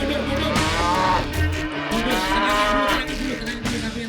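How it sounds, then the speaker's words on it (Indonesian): A stressed cow at a cattle contest lets out loud, drawn-out moos close by, over the background commotion of the crowd and event. "sudah ada sapi yang ngamuk saja tuh"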